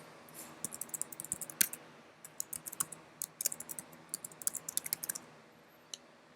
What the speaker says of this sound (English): So let me type in the chat.